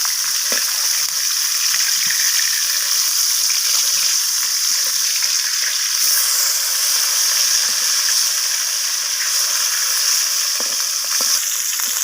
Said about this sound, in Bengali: তো মাছগুলোকে আমি দু পিপি লালচে করে ভেজে নেব